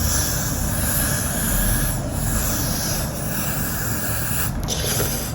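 A steady, close hiss of aerosol hair spray runs for several seconds with brief dips, loud and unbroken, no talking.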